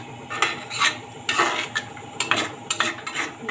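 Curd being stirred into paneer butter masala in a pan over low heat, making repeated spoon scrapes and clinks against the metal in a steady rhythm, with a gentle sizzle underneath.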